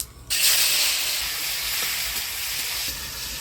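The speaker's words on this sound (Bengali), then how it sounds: "ফোড়নে দিচ্ছি শুকনো লঙ্কা, গোটা জিরা।" Dry red chillies and whole cumin seeds hit hot oil and burst into loud, steady sizzling. The frying stays strong and constant to the end, with no talk.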